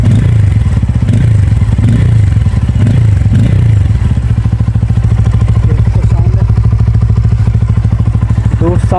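A Pulsar N250 motorcycle engine with its stock muffler removed runs loud and close with a harsh, open exhaust, throbbing at idle and then blipped in short throttle bursts.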